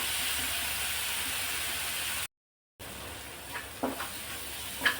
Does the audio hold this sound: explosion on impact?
no